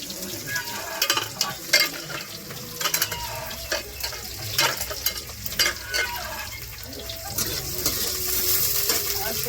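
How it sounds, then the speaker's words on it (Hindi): Vegetables with bay leaf and onion sizzle and crackle while tempering in a hot pan, with bursts of spattering as they are stirred and tossed. "देखियो अखन हम फटाफट सब्जी छौंक दै छी।"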